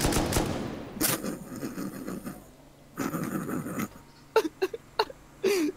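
Bursts of heavy M2 machine gun fire in the survival game Rust, with a few sharp separate shots near the end, loud and close, with no talk over them.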